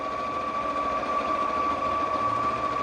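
A sewing machine stitches a market tote, a steady, even mechanical whir with a high motor hum running continuously and alone at moderate loudness.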